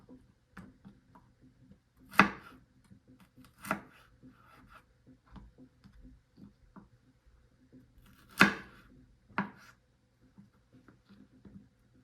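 Carrots being chopped into thin slices on a cutting board while cooking, heard as a few sharp, distinct knife strikes spaced seconds apart over a quiet background hum, with no talking.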